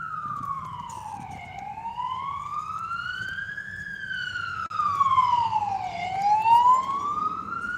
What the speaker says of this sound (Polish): straż pożarna pojechał